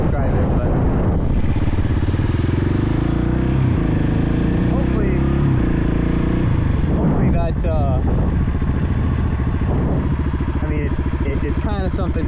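Motorcycle engine revving hard and climbing through first, second and third gear for a coaster wheelie, loud and continuous close by, with a rider talking over the engine noise throughout.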